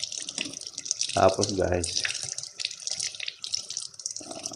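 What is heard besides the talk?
water running from tap while washing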